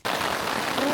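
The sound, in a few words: heavy rain in the forest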